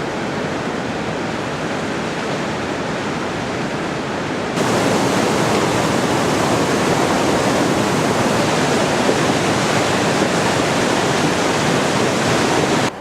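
A river rushes beneath an old footbridge on a Nepal trekking route: dense, steady roaring water noise fills the scene and grows noticeably louder partway through, with no voices.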